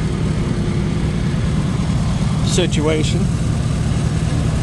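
An auctioned machine's engine runs steadily at a low rumble, rising briefly as the throttle is blipped, with someone talking over it.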